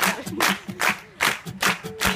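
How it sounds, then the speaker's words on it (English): A few bursts of hand clapping, uneven and brief, spaced across a couple of seconds with a low hum and faint voices underneath, at VidCon 2015. "Get a clap. Clap. Clap."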